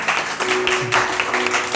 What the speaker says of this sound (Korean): 두 친구를 위해서 다 같이 축복의 박수 한번 합시다.